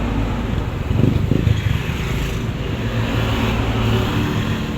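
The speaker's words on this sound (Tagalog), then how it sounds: "Madami din pong mga sasakyan pong nadaan." Cars pass along a busy roadside near a picnic area, a steady close rumble of engines and tire noise with one louder vehicle swelling past early on, no talking over it.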